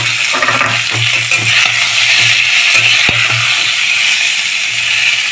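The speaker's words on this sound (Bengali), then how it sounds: "এখন এতে আমি দিয়ে দিচ্ছি কেটে কামরাঙা, দিয়ে আমি ভালো করে ভেজে নেব একটু" Chopped star fruit (kamranga) frying in a pan for chutney makes a steady hissing sizzle throughout, with occasional clinks and stirring scrapes and a low hum underneath.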